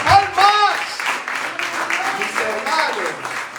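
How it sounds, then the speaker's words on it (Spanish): A church congregation claps during a sermon, hands pattering beneath a preacher's voice, with the applause mixed under speech and shouted exclamations rather than heard alone. "rómpete las palmas"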